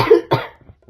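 A person gives two quick, close coughs in succession, the first slightly longer and louder, followed by brief faint throat noises and near silence.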